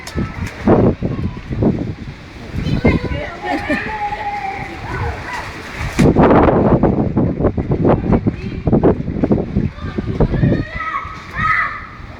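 Twin children splash and slosh in water at a birthday gathering, with repeated close, loud bursts of splashing over gusty wind noise on the microphone, while children's voices and shouts carry through throughout.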